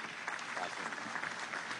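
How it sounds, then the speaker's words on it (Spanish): Dense, steady applause from a studio audience greets a professor invited onto a Venezuelan presidential talk program, filling the whole stretch evenly with no break. "Un aplauso para el profesor Germán Escarrá."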